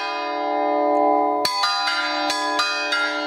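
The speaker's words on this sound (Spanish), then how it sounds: "Campanas, repique de campanas, anunciando el año de bajada." Church bells in a festive peal at San Juan Bautista in Puntallana, a sustained ringing tone followed by several sharp, bright strikes in quick uneven succession, close and loud with long shimmering decay.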